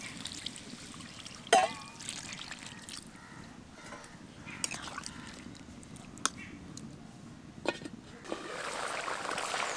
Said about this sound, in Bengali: এখন এই সবজিগুলোকে সিদ্ধ হওয়ার জন্য এর মধ্যে জল দিয়ে দেবো।